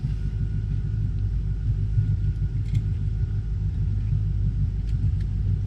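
Steady low rumble of a 2018 Malibu Wakesetter MXZ 24ft wake boat engine idling, constant and fairly quiet throughout with no talk over it.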